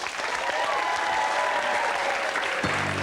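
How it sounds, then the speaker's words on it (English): Studio audience claps for Paul on a television talk show, a steady wash of applause at moderate level, with a faint voice and a brief low tonal sound near the end. "A big round of applause, please, for Paul."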